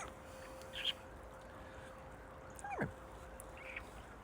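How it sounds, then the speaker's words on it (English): A bird calls outdoors, a few faint, brief cries heard over quiet ambient background, with no speech. "Bird."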